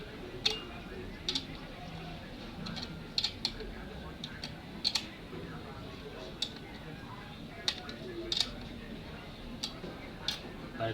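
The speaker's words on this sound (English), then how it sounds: "you now use the spanner size 10 to tighten up here" A size 10 spanner tightens the bolts on a satellite dish wall bracket, giving faint, scattered metallic clicks and ticks in a quiet room, with irregular pauses between the turns.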